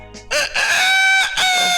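A person vocally imitates a rooster's crow: one drawn-out, strongly tonal call of under two seconds that rises after a short opening note, loud and close, with no other sound around it.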